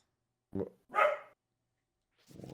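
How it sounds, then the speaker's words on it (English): A dog in the video game Tomb Raider 3 Remastered gives two short, sharp barks close by, then a rougher bark begins after a brief silence. "He's barking."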